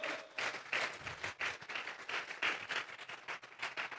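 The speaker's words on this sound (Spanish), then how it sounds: "Regálele ofrenda de palmas a nuestro Dios." Congregation in a church service clapping as an offering of praise to God, a dense steady wash of many hands lasting throughout with a few brief swells.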